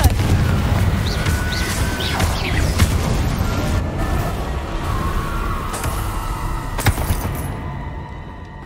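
A Confringo fire spell in Hogwarts Legacy bursts amid steady loud game noise, with a sustained rumbling bed, brief whooshing sweeps and sharp cracks before it fades out.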